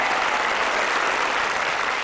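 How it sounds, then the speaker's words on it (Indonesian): A studio audience at an Indonesian game show applauds loudly and continuously, a dense wash of many clapping hands close up, with no pauses. "Tepuk tangan terus."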